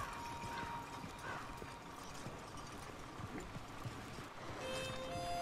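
Horse hooves clip-clop steadily in Red Dead Redemption 2, a brisk even rhythm of hoofbeats over a constant outdoor ambience with a faint tonal cue near the end.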